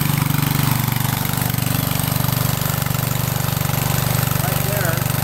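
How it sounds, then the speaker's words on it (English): A Honda 2.2 horsepower generator engine runs steadily, used as a DIY 12 volt battery charger, giving a constant, loud, even droning hum with a fast regular pulse throughout. "I can hear the generator's no longer straining"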